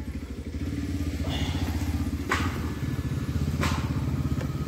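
Motorcycle on a Rapido bike-taxi ride, a steady close engine drone with rhythmic pulsing and occasional wind bursts, no clear talking.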